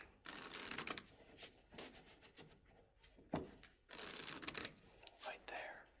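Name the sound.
shuffling a deck of playing cards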